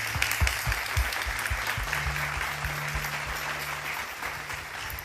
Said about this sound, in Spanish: Denle un aplauso fuerte a toda la gente que nos escucha y nos mira.